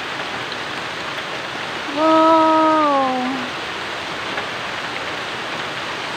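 Steady heavy rain in the Philippines hisses throughout, broad and close, with a single brief exclaimed voice over it partway through.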